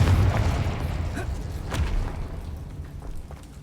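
Confringo blasting spell in Hogwarts Legacy bursts into a low, booming explosion that rolls and fades over a few seconds, with a faint thud midway and ambient game rumble.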